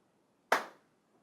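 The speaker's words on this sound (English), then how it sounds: "I'm going to clap one more time" One sharp hand clap, close and crisp with a quick decaying tail in an otherwise quiet room.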